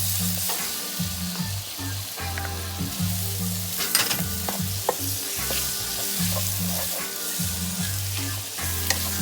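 Spices sautéing with turmeric in a pan for Sri Lankan crab curry, a continuous close sizzle with intermittent stirring scrapes and clinks, no talking.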